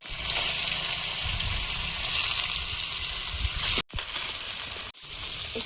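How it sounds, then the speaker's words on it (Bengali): Paneer frying in hot oil in a pan, a loud continuous sizzle and hiss with a watery, crackling texture, broken twice by brief sudden drops into silence. "পনিরটা ভেজে নেব।"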